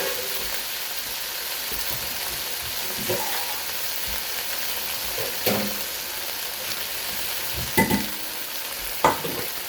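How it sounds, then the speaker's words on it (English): Beef stir-frying in olive oil in a pan gives a loud, steady sizzle, with occasional clatters and scrapes from stirring close by. "So now we'll add the beef. And you're going to basically stir fry."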